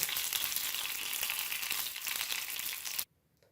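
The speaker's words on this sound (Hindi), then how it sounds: "इसलिए मैं इनको अच्छे तरीके से पहले फ्राई कर लेती हूँ।" Chapli kababs fry in oil with a dense, loud, continuous sizzle for about three seconds. The sound then cuts off abruptly to near silence, with no talking.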